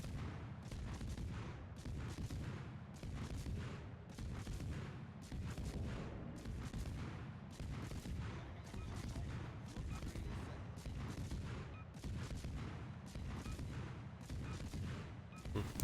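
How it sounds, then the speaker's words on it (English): Enemy gunfire blind-fired at a tank in a video game: heavy booming shots repeat in a steady rhythm about once a second, loud and dense throughout, over a constant low roar. "They're blind firing me to stay lit."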